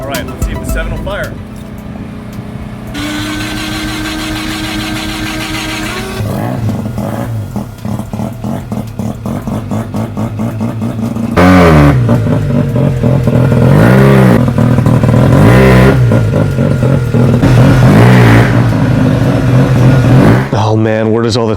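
The 7 car's engine cranks, catches and revs in several rising bursts, growing louder and rougher toward the end, heard close with people talking over it.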